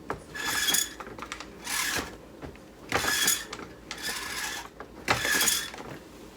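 Lee Load reloading press with a trimmed final crimp tube working 16 gauge 2.5 inch shotgun shells, three close rasping, scraping strokes repeated at a regular pace with mechanical clicks in between.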